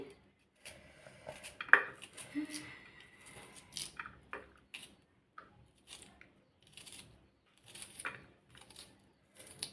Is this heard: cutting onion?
yes